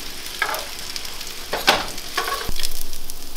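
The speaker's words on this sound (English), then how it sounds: "Sear them for another 2 to 3 minutes on that side" Perch fillets searing in olive oil in a hot pan give a steady, close sizzle with brief louder crackles and spatters, no voices.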